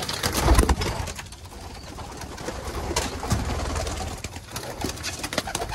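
Young Mülemans pigeons in a loft give soft, low cooing calls amid fluttering and rustling, with a few louder bursts near the start and steady bird activity throughout.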